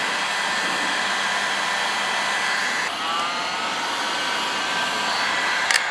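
A heat gun blows a steady, loud stream of hot air onto vinyl wrap over a car's front bumper, one continuous whoosh with a slight shift in tone midway and no voices.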